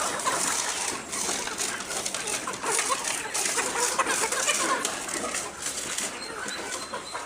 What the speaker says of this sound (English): the birds are being fed